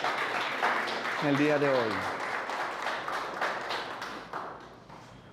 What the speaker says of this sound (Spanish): Dale un aplauso a Dios por la iglesia de Cristo